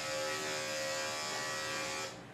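An electric dog grooming clipper fitted with a 7 blade runs in a close, steady high-pitched buzz for about two seconds, then switches off and fades out, with no talk.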